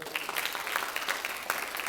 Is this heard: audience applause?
yes